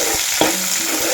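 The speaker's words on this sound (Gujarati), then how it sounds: "આ આપણે મરચાં અને લસણ ને તેજપત્તાનો બધો વઘાર કર્યો છે" Chillies, garlic and bay leaves sizzling in hot oil as a tempering for tomato soup, a steady crackling fry close by with a brief stirring clatter partway through and no talking.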